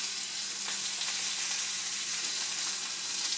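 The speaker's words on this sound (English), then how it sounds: "So I'm just going to coat the onions by stirring them in my skillet" Onions sizzle steadily in a hot skillet as they are stirred to coat them, a dense, even crackle close by with no voices.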